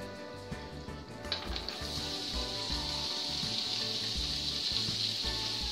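Butter and onions sizzle steadily in a hot pan on high heat for meatballs, a dense continuous hiss with faint clinks at the start, close and alone with no talk.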